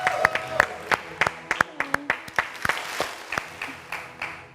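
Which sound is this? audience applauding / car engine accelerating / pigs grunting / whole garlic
audience applauding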